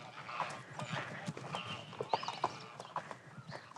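Horse hooves clip-clop steadily on the ground during a ride through the Camargue wetlands, with irregular rhythmic steps at moderate distance and soft ambient noise around them.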